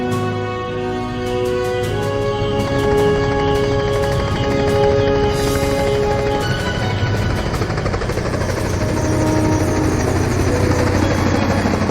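Aircraft taking off fast in the video game Deadly Sin II, a loud, steady engine roar with layered tonal whine that holds throughout and thickens into broadband rush, with no talk over it.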